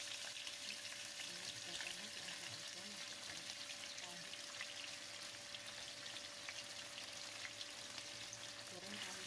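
Blended spice paste frying in hot oil in a pan, a steady, dense sizzle and crackle running continuously at moderate loudness, with no talking.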